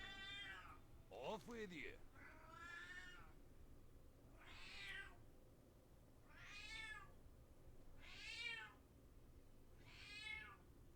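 A pet cat meows repeatedly, with six or seven drawn-out, close calls spaced a second or two apart; a person speaks briefly near the start.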